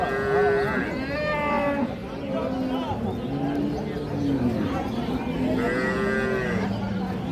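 Holstein Friesian cows at a livestock market low repeatedly, two long moos near the start and end standing out over steady crowd chatter and bargaining voices.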